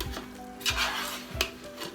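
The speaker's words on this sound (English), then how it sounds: "It's boiling nice, boiling down nicely" Homemade sugar-free, vinegar-free chutney with softened peppers bubbling as it reduces in a pot, with soft repeated stirring scrapes and pan knocks close by.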